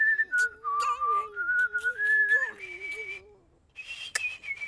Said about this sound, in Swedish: jag kan vissla med min rumpa!